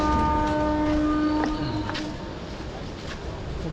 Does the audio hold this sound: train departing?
yes